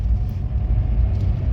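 Steady low engine rumble from an automatic car driving along, a continuous interior drone with no other sounds standing out.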